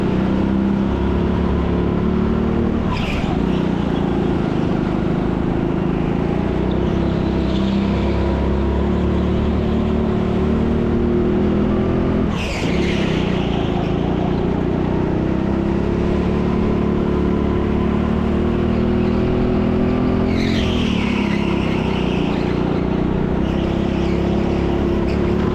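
A go-kart engine at TeamSport Leicester revs continuously through laps, a loud nasal buzz rising and falling with periodic sharp peaks as it accelerates out of corners.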